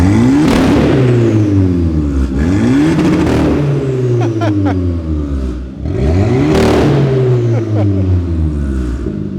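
Hyundai i20N engine running on the downpipe only with no exhaust, revved hard in repeated sweeping pulls that rise and fall, loud, raspy and close, with brief crackles between revs.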